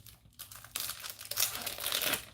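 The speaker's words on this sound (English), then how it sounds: "so sorry for the crinkling, because I know people don't like you to crinkle, but I forgot to open these up" Plastic packaging on fragrance purchases is crinkled and torn open up close, with a brief quiet pause before a dense, loud burst of crackling and rustling that continues to the end.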